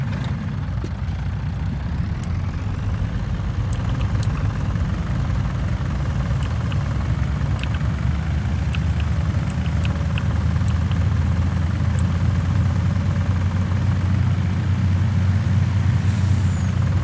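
A Kenworth truck in Farming Simulator 2019 rumbles steadily at low speed with a deep engine drone, while faint hissing air-brake releases and small clicks recur throughout.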